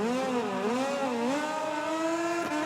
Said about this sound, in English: A Stone revs it up, middle of the second row to get underway.